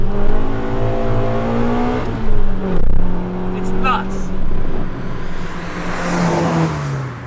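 A JDM EK9 Honda Civic Type R engine revs hard from inside the car, pitch climbing through the gears with brief dips at shifts, loud and close, while the driver talks briefly over it.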